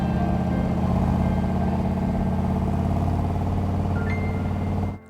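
A 1967 Corvette Stingray with a 427 V8, three two-barrel carburetors and side pipes idles with a steady, loud, deep burbling rumble on a deserted highway, holding constant before cutting off abruptly at the end.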